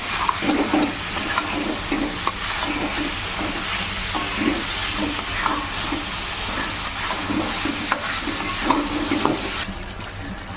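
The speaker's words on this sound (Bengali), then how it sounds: "এবারে ভেজে রাখা এই চিকেনগুলো এর মধ্যে দিয়ে দিচ্ছি। এরপরে আবারও ভালো করে কষে নেবো সব।" Fried chicken pieces being stir-fried in a pan for a Bengali red chicken curry, a continuous loud sizzle with rhythmic scraping of the spatula, close and without talk.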